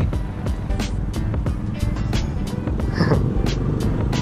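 Road traffic in Bacolod is heard from inside a vehicle, a constant low engine and tyre rumble with sharp ticks and passing hisses over it.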